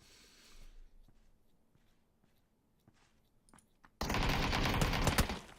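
Gunshots in a battle royale video game: quiet at first, then a sudden loud, dense burst of rapid fire that keeps going to the end.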